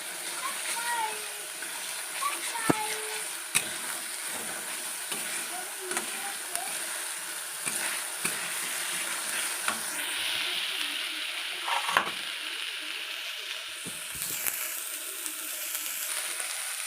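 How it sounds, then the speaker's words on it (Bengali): Spice masala sautés in a pan for a dish with salt added, a steady broadband sizzle broken by sharp clicks and scrapes of stirring, with faint voices in the background. "মশলাটা ভালোভাবে কষিয়ে নেব।"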